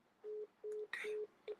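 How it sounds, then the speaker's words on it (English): A telephone busy or disconnect tone after a dropped call: four short, evenly spaced electronic beeps at steady pitch, quiet, with a brief burst of other noise between the second and third beeps. "Sandy, our call dropped."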